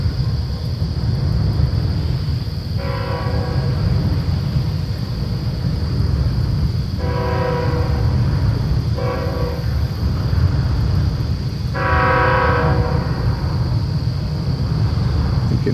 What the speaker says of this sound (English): You can hear a train coming across the bridge.